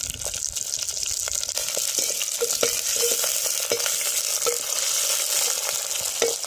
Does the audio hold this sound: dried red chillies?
yes